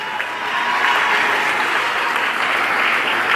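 A church congregation applauds the Lord at an evangelical service, steady, dense clapping swelling slightly and holding loud and continuous, with no voices standing out.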